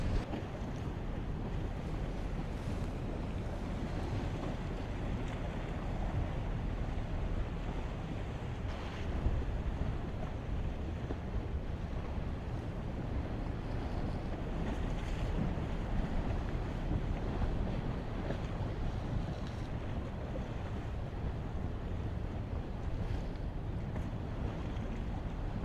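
Rough sea waves surge and wind buffets the microphone at a Bristol Channel pier, a continuous loud rumbling roar of surf and gusts with occasional swells rising above it.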